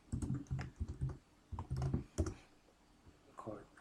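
Close-up clicking of computer keyboard keys in uneven bursts of quick taps with short pauses between them, soft and near, with no talking.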